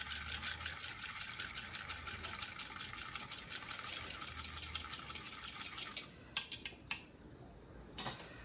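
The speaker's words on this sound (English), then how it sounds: "We're gonna whisk this all together." A small whisk beats a garlic mixture in a bowl, giving quiet, rapid, regular ticking clinks that carry on steadily before a few sharper isolated taps at the end.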